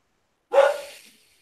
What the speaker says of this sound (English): I apologize for the dogs barking.